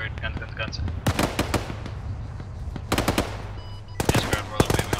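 In Arma 3, an aircraft gun fires rapid bursts of automatic fire, one brief and two longer, in sharp, loud clusters. Voices talk over radio chatter in between.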